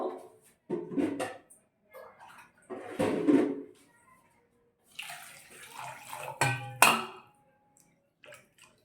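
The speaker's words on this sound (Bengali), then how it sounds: "এখানে অনেকটাই এক লিটার মতো জল দিয়ে দিলাম" Roughly one litre of water poured into a pot while making a homemade cold-and-cough syrup, heard as several separate splashing pours with brief pauses between them, close by and moderately loud, with no talking.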